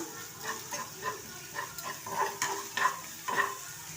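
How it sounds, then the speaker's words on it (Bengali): A frying mixture of salt, turmeric and sugar being stirred in a pan, quiet and fairly close, with a run of short rhythmic scraping strokes over a soft sizzle. "এবার এর মধ্যে কিছুটা নুন দিলাম একটু হলুদ দিলাম একটু সামান্য চিনি দিলাম একটু ভালোভাবে নাড়িয়ে নিলাম"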